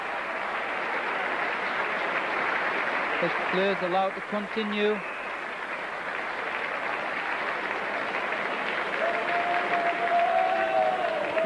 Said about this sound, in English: You see it's very generous applause.